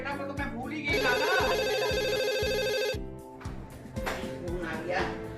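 A telephone rings loudly with a bright electronic trill for about two seconds, set against a rhythmic background beat.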